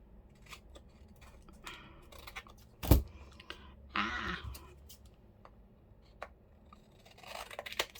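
Scissors snip through paper for handmade junk-journal cards: a few quiet, scattered cuts, one louder sharp clack, and rustling paper handling in a quiet room.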